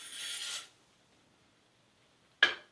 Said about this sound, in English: Cleaning rod out. Simply a matter of screwing and pulling out.